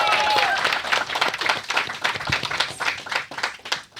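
A studio audience claps for a guest on a talk show, a short burst of brisk applause that starts strong and tapers off in uneven rhythmic clapping.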